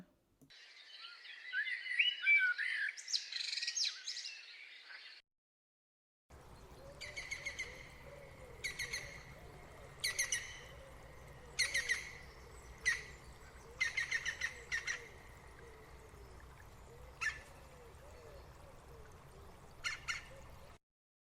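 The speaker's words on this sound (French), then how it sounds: "Le merle noir." A common blackbird sings in short, fluty phrases separated by pauses, clear and fairly close, after a brief burst of higher, chattering birdsong.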